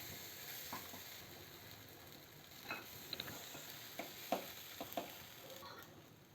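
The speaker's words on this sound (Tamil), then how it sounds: "இப்போ நம்ம பனியார மாவு சேர்த்துக்கலாம்." Rava paniyaram batter sizzles in an oiled paniyaram pan, a faint steady frying hiss with a few soft scattered clicks and taps, heard alone without talk.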